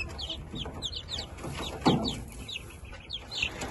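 Several chickens cluck and chirp softly and continuously, close by, over a low background hum.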